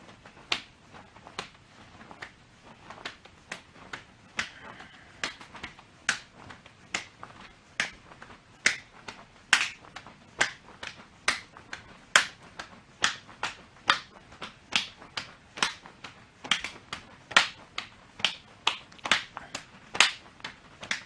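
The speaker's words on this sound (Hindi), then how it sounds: "हम दोनों पैरों को जंप के साथ खोलेंगे और हाथों से ऊपर की तरफ ताली बजाएंगे, जिसको जंपिंग जैक्स बोलते हैं" Sharp hand claps repeat steadily, about twenty in a row at a brisk, even rhythm, as someone claps overhead while doing jumping jacks in a self-defence fitness session; each clap is close and crisp with no talking.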